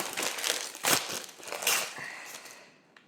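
Thin tissue wrapping paper crinkles and crumples in several bursts as it is pulled and handled up close while unwrapping, fading to near silence at the end.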